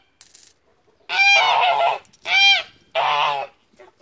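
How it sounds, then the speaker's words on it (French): Agitated geese on a farm honking in three loud, close bursts with short gaps between, each a harsh nasal blast, with quiet moments around them. "les oies et les moutons qui s'énervent"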